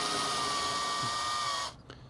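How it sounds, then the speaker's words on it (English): A clean masonry bit bores through an unvitrified ceramic shell for lost wax casting, a steady high whirring drill sound held close for under two seconds before cutting off abruptly. "With a nice clean masonry bit, it goes through this unvitrified shell really easily."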